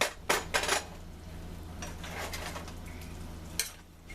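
Orange tarragon sauce is stirred in a pan for rockfish, with a few sharp utensil scrapes and clinks against the metal near the start and again near the end over a soft, constant simmering hiss.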